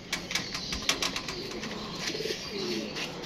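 Pigeons coo softly in a series of low throaty calls, with a few brief flutters and light knocks in the background.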